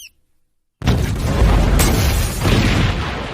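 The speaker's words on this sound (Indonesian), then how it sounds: "Kemudian seluruh gedung itu pun meledak." After a moment of silence, a whole building explodes in the 2008 film Wanted, a massive deep roaring blast that rumbles on steadily, with a sharp crack partway through.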